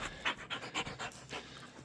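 A dog pants rapidly indoors, a close, soft rhythm of quick breathy huffs repeating steadily with no talking over it.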